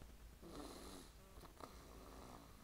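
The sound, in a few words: child snoring loudly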